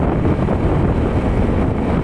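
Wind sweeps across rice fields in the countryside, buffeting the microphone with a loud, continuous low rumble and rushing noise that holds steady throughout, with no voices.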